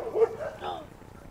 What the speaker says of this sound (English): A dog is causing a scene.